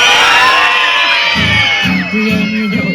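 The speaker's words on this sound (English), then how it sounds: "Happy and you know it. Give a scream." A crowd at a Florida outing screams and cheers loudly on cue during a sing-along, with a dense wall of whoops and yells filling the whole stretch and rising in bursts.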